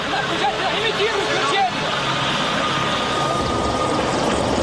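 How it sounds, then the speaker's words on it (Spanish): Military helicopters flying over the Chernobyl disaster area in 1986 give a steady droning engine and rotor noise, held under a talking voice throughout the short stretch. "el general Antochkin y su flota de 80 helicópteros viajan desde Moscú para controlar el incendio y apagar el fuego"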